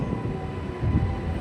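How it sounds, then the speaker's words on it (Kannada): A MEMU train from Bengaluru to Kolar pulls into Dalasnuru station with a steady, loud low rumble and rolling noise, heard from on board. "ನಮ್ಮ ಟ್ರೈನ್ ಇವಾಗ ಎಂಟ್ರಿ ಆಗಿದೆ ದಳಸ್ನೂರಿಗೆ."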